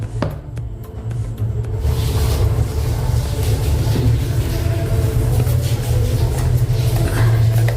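A mixer grinder jar grinding soaked urad dal starts up after a moment of quiet, then holds a loud, steady, low whirring rumble to the end.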